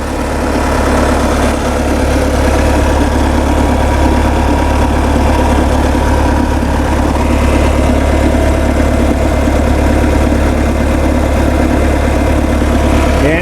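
A Bobcat 773 skid steer's engine idles steadily up close, a constant loud low rumble with vibration running without a break and no talk over it.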